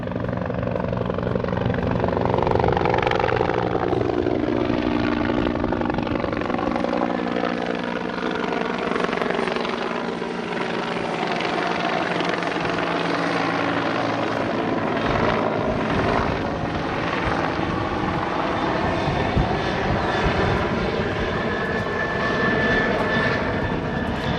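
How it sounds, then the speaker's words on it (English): A helicopter thrums loudly and continuously, its rotor chop and engine whine swelling and shifting as it passes close overhead. "I can hear the helicopter now."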